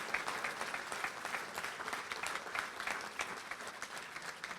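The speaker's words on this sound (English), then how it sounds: "let's have another round of applause for all these award winners" Steady, dense applause from a dinner audience for award winners at the 2022 RSHOF awards dinner, continuous clapping throughout at moderate loudness.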